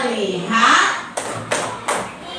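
Children in a grade 3 classroom chant in unison, then three sharp group claps land about a third of a second apart, loud and close, following the sung line.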